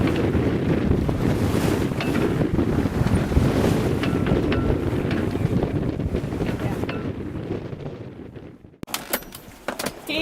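A cruising sailboat moves under wind at sea, with loud gusting wind buffeting the microphone and rushing water and waves, then a sudden drop to quieter water and clattering near the end.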